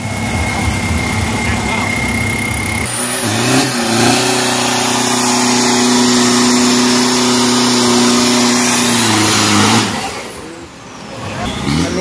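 A 3000 cc common-rail diesel pickup truck with a 90-series body on a 402-metre drag strip revs hard, a loud close engine climbing then holding a steady high drone before cutting off abruptly.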